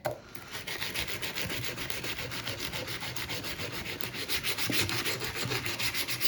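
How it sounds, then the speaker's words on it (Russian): A blade's cutting edge is smoothed by hand with fine 240-grit sandpaper, making soft, even, rhythmic rubbing strokes that repeat steadily up close, quiet and alone with no talk. "Также режущую кромку всю полируем, шлифуем точнее."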